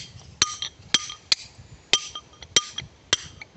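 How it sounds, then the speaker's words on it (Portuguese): A small mallet strikes a chisel against stone in old-style hand stone cutting, six sharp ringing metallic clinks spaced about half a second apart, close and clear over quiet background. "Você batendo a macetinha aí pra galera ver."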